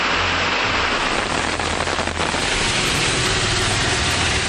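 Steady, loud rain falls around Arur in Dharmapuri district, a dense unbroken hiss of heavy downpour from start to end.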